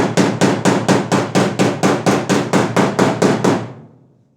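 Steel hammer blows on a 1977 Volkswagen Passat body panel being leveled: about fourteen firm, evenly spaced metallic strikes, close and loud, ending with a short ringing decay.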